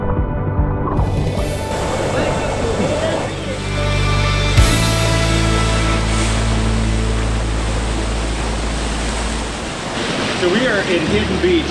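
Ocean surf at Hidden Beach in El Nido, Palawan, a loud continuous wash of breaking waves with heavy low rumble and wind-like hiss, close and swelling in intensity.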